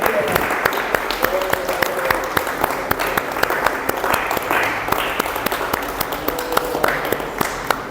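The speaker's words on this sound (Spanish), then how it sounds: "Podemos dar una ofrenda de aplausos a nuestro Señor" Congregation at a church service clapping in praise, a loud sustained round of applause with sharp individual claps standing out and voices mixed in throughout.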